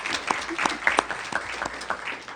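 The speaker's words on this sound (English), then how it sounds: "let's give Daniel a round of applause for that video" Applause from the audience at a school board meeting, a short burst of scattered clapping from a modest crowd in an indoor room.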